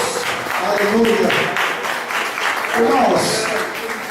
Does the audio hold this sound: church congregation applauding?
yes